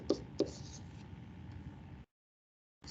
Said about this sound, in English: I guess I'll write it out.